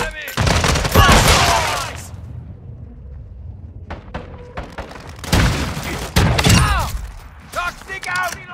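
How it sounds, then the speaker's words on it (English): Gunfire in Call of Duty Modern Warfare II, the 2022 video game: bursts of rapid automatic fire with booms and thuds, loud and dense, two heavy stretches separated by a quieter gap of scattered shots. "I'm taking enemy fire!"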